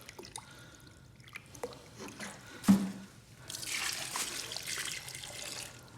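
The last quarts of water are poured in while preparing for wall tiling in a walk-in shower. A faint trickle and drip come first, then a steadier, soft rush of pouring water in a quiet room.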